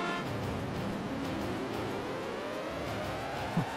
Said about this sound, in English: What does the siren mean?